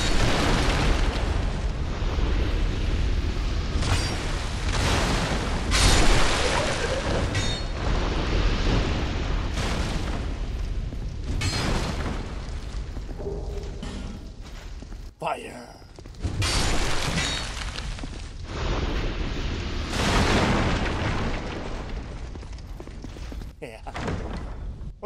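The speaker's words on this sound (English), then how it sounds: "It's fire! Fire! Big fire!" Fire in Dark Souls II, roaring bursts and crackling blasts that swell and fade repeatedly across a long stretch of heavy combat noise, loud and close, with voices talking throughout.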